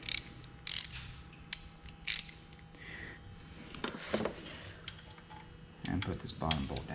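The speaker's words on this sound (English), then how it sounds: "I'm going to switch back over to my little ratchet" A small hand ratchet tightens a thermostat housing bolt on a 2017 Jeep Wrangler, quick clicking pawl strokes in short bursts over a steady background hum.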